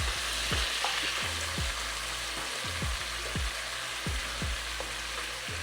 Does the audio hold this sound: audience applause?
no